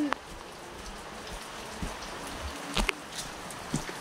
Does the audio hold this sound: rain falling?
yes